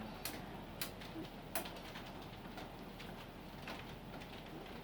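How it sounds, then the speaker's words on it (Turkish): Faint, steady patter of rain outdoors with a few sharp drips or ticks near the start; quiet and even throughout. "şu an dışarıda güzel bir yağmur yağıyor"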